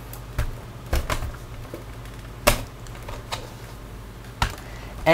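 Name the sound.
removing screws from Toshiba Satellite Pro C50-A laptop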